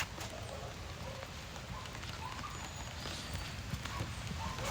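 Horse hooves beat a soft, steady rhythm on an arena surface during a flatwork riding session. The sound stays muffled and sits low under a constant background.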